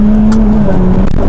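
A new car accelerates hard, its engine revving loud and close with a steady tone throughout a short burst.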